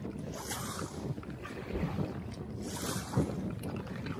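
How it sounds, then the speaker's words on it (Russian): Strong wind gusting around a packraft on open water while paddling, a steady roaring rush with surges near the start and again near the end, the paddle and water splashing faintly beneath it, no talk. "О, ветер так ветер, аж весло из рук вырывает."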